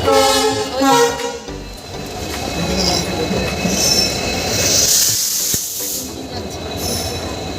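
A rumbling train with brief horn-like tones at the start, a hissing and clattering undertone, and a sharp metallic squeal midway.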